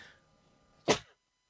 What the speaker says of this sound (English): got a sneeze attack and no way to stop it